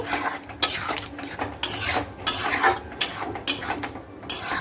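Spoon stirring sugar and garam masala into a curd prawn curry in a pan, with repeated metallic scrapes and clinks against the pot in an uneven rhythm, close and fairly loud, no talking.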